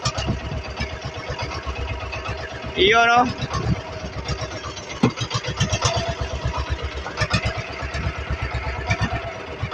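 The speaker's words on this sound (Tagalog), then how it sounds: "Andaran na natin mga kalagalag yung makina" A boat engine chugs in a fast, regular pulse close by on a crab-trapping trip, running steadily throughout while a person speaks briefly over it.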